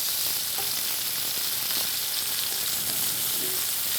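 Steady, dense sizzling of onions frying in a pan, a continuous crackle like light rain, close and even throughout with no voices.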